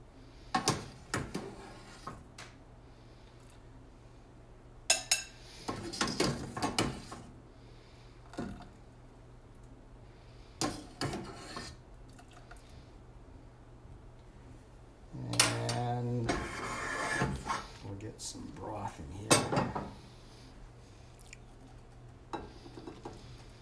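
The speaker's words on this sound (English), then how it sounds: "So I'm gonna scoop the egg out." Metal utensil scraping and clinking against a cooking pot while an egg is scooped out of sweet pepper vegetable ramen egg drop soup, in several short bursts with pauses between them, close by and moderately loud.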